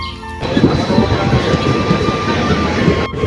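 A moving train rumbles loudly and continuously up close, with rattling wheels and a steady hum filling the whole stretch.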